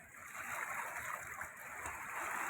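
Water released from Mettur dam surges down the Kaveri river near Erode in a constant rushing, splashing roar heard up close, swelling slightly near the end.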